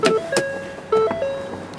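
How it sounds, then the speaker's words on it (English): Driver's side power window of a 2014 Ford Focus ST (Cobb Stage 3) motoring closed, a close steady electric whine in short runs with brief pauses, alone with no talk. "bring the driver's side automatic window back up"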